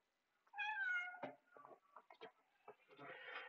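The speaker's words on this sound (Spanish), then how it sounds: "Solo mi gato." A pet cat meows close by, one long drawn-out cry followed by a run of short chirping, murmuring vocalizations in a quiet room.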